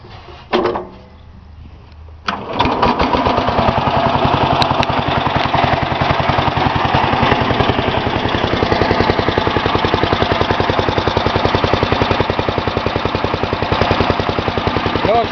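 Briggs & Stratton 16hp cast iron engine with updraft carburetor on a Farm King machine, left parked for about seven years, cranks briefly then fires and settles into a loud, steady, rhythmic running chug close by.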